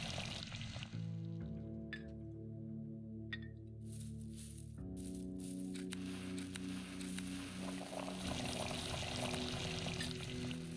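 Water being poured for tinctures in the game Pathologic, a gurgling, rising liquid pour with tonal bubbling in two stretches, then a louder, noisier splash at the end.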